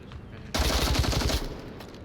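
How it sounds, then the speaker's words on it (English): Rapid automatic gunfire bursts out suddenly in the VR shooter Onward, a dense run of shots lasting about a second before cutting off into quieter background. "Eduardo's just wasting ammo."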